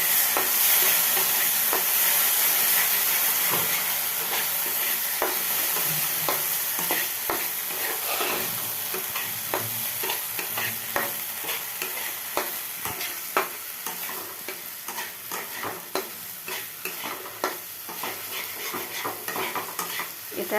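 Spice paste fried in oil with nigella seeds and onion, stirred in a wok: a steady close sizzle runs throughout, broken by frequent scraping clicks of the spatula, with no voices.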